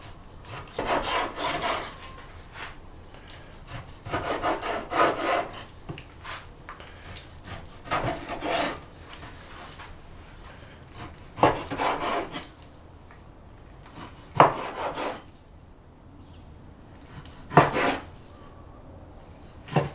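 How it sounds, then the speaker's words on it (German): A knife cuts ingredients for a Hawaiian-style pork curry into 3 cm pieces, scraping and chopping on a board in about six short bursts separated by quiet pauses, close up with no talking. "So, fangen wir mal an und schneiden erstmal alles klein."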